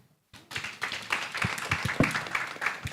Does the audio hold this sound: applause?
yes